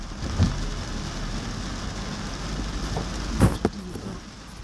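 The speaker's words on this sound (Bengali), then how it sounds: "ভয়াবহ বৃষ্টি।" Heavy rain pours on a Dhaka street in a constant dense hiss, with a couple of short louder bumps of passing traffic or thunder.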